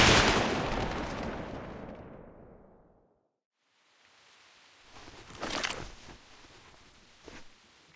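A firing squad's rifle volley in the video game Reverse: 1999 opens with one loud, sharp crack whose rumble fades over about three seconds, followed by silence and then a few quieter, scattered reports.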